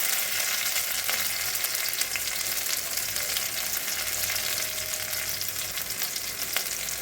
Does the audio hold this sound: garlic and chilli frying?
yes